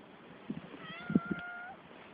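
A cat gives a drawn-out meow, faint and somewhat distant, with soft thumps and shuffling around it.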